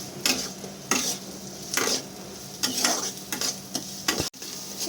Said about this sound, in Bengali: একসাথে ভালো করে মিক্স করে নেব।